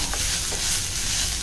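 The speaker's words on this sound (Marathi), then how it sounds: "आता सगळं चांगलं 5 मिनिटं तरी मीडियम टू हाय गॅसवर परतून" Onion, coriander and fresh and dry coconut being stirred and sautéed in a pan over medium-high heat, with a steady close sizzle and a few scraping strokes of the spoon, no talking.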